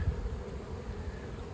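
Honeybees swarm around an open hive during a beekeeper's frame inspection, making a low, continuous, close buzzing drone.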